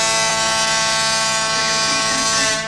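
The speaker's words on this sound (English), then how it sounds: "Could you try blowing your foghorn," A boat foghorn blows in one long, loud, steady tone with rich harmonics, held for nearly three seconds at sea and tapering slightly at the end.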